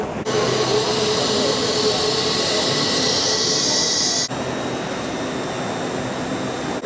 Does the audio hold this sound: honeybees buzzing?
no